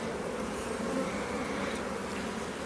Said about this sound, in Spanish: Tenemos los bastidores bien cubiertos de abeja, una abeja tranquila, relajada, no está agresiva.